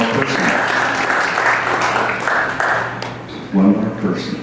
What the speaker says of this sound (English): Let's give her a round of applause and sit down